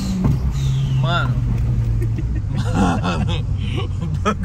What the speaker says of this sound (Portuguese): Só que quando acelera e... Olha o barulho da turbina lá.